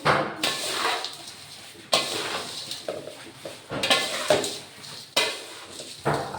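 Repeated scraping and clanking of a spoon against a metal pot as nylon chevdo snack is tossed with amchur powder, coming in several distinct sweeping strokes roughly every second, close and fairly loud with no speech.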